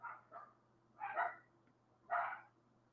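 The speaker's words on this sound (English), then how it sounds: "Can you hear those dogs?" Dogs bark in the distance, a few separate barks and yips spread across a few seconds over a low steady hum, with no talking.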